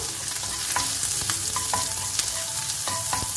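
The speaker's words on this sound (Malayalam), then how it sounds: "ഇതിലേക്ക് ഗാർലിക്ക്, ജിഞ്ചർ, ഗ്രീൻ ചില്ലി ഇട്ട് കൊടുത്ത് നന്നായി ഒന്ന് വഴറ്റിയെടുക്കാം." Garlic, ginger and green chili sauté in hot oil in a pan with cumin seeds, a steady close sizzle broken by scraping stirs and occasional clinks of the spoon against the pan.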